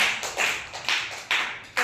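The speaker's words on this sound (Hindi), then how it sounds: "हाँ तालियां बजाओ।" Children in a classroom clap their hands in a short, ragged burst, with several sharp bursts of claps fairly close by and no talking.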